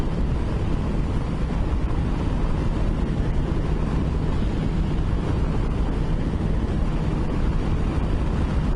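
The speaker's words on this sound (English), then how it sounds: "I can hear the wind quite loud" Loud, constant wind roar buffeting the microphone while riding a motorcycle at 70 mph with a cheap screen extender, a dense unbroken rush with no speech.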